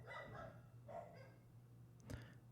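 Dogs bark faintly in the background, with a few muffled barks at a distance over a low, steady hum in a brief, quiet stretch.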